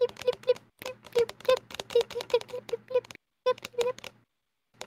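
A voice imitates falling rain with quick, irregular mouth clicks and pops, close and dry, broken by short pauses of near silence.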